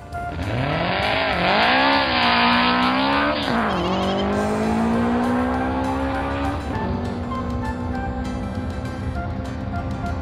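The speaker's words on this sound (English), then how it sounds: "Race car." A race car screams through shifts with rising and falling engine pitch and a tire squeal, loud and close, the high revving whine sweeping up and down over about ten seconds.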